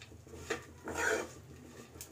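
Dry fruits dry-roasting in a pan give a few faint, soft scraping and rubbing strokes as they are stirred, quiet and close with no talking.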